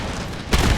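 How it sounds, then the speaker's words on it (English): A rocket barrage detonating in Empire: Total War, a sudden heavy booming burst that lands loud and close after a moment of low battlefield rumble. "There's a rocket barrage."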